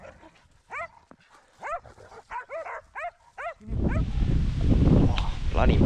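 Hunting dogs bark in a run of sharp, rising yelps at a wild hog, the barks loud and close, then giving way to a dense burst of scuffling, squealing noise as the hog is caught.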